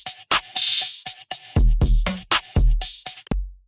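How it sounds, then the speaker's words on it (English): A drum loop taken from a Splice sample pack, with punchy kicks and crisp hits in a steady, choppy pattern, loud and up close with no voices over it. "this is like a drum loop that I think came from Splice"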